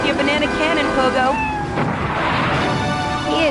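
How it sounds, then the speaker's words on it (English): A cat meows in a spoof advert inside Grand Theft Auto III, with several pitched, wavering cries standing out over busy game music and effects, close and fairly loud. "Rescue a cat out of that tree with your banana cannon, Pogo."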